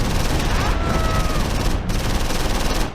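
A medium machine gun in the World War II strategy game Close Combat 4, set in the Battle of the Bulge at Losheim. A dense, continuous roar of fire runs throughout with a few brief dips, loud and alone.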